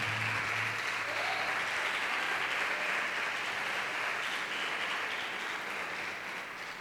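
A church congregation applauds together, a thick, even roar of many hands clapping that holds steady for several seconds before easing off slightly at the end.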